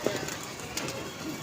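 A brief, soft cooing of pigeons close by, with a faint murmur of background noise.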